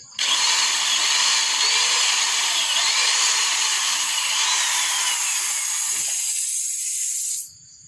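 A power drill bores steadily into bamboo cut for a bed frame, a loud continuous whine running unbroken for about seven seconds before stopping abruptly, with no talk over it.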